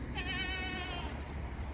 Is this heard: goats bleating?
yes